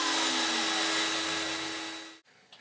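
A grinding wheel being trued on a lathe during a 3-jaw chuck regrind gives a loud, steady high whine and rush. It holds for about two seconds, then cuts off sharply and leaves a few faint clicks.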